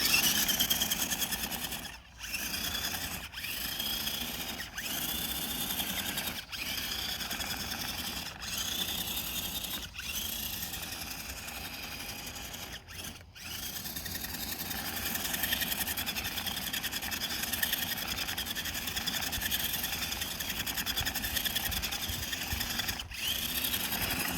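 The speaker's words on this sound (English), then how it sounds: "Here's your one with your 20-turn motor." A 20-turn electric motor in a Redcat Everest 10 RC crawler runs with a steady high whine and buzz, broken by several short dips and pauses across the clip, close and continuous with no talk.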